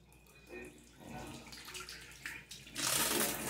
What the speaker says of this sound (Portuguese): Saiu muita água aqui, pessoal.